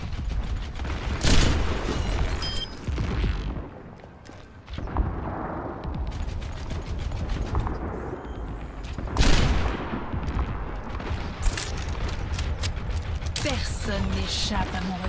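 Sharp, loud sniper rifle shots crack out at irregular intervals in the video game Overwatch, standing out over busy in-game battle noise and a voice.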